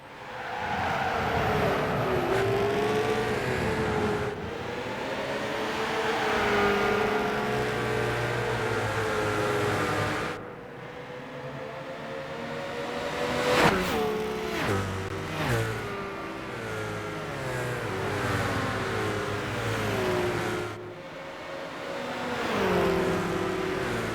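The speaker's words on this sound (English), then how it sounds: "You really feel indeed the turbo kicking in." Race car engine in Gran Turismo 5, revving hard with the turbo building boost. It rises and falls through gear changes and stays loud and close for the whole stretch, with no voices over it.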